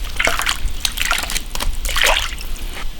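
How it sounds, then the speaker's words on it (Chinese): Chunks of beef drop into a pot of cold water, producing repeated close splashes and sloshes in irregular bursts. "牛肉冷水下锅，"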